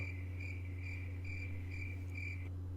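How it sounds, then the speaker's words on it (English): Crickets chirp in a steady, regular pulse of high trills, faint and sustained, over a constant low electrical hum. "those crickets go for a while,"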